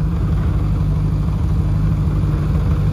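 A BAC Mono, a road-legal single-seater racing car, idles with a steady low engine rumble, close and loud, and holds an even tone with no voices.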